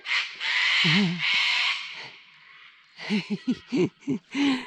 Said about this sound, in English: Oh, here comes the cockatoo.